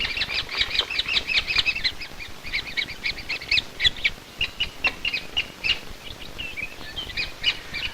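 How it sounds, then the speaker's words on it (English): Spotted woodpecker nestlings squabble inside a nest cavity, giving dense, rapid, high-pitched chattering calls that rise and fall in overlapping bursts, steady and fairly close throughout. "As is the custom in a spotted woodpecker nursery,"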